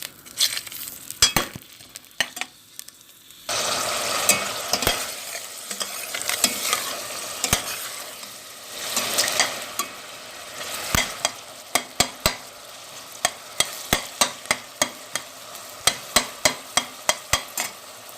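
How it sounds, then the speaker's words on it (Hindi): Onions frying in a cup of oil, a sizzle that swells after a few seconds of quieter crackle, overlaid by frequent sharp metal spatula clicks and taps against the pan, growing more rhythmic toward the end. "प्याज को हम फ्राई करेंगे।"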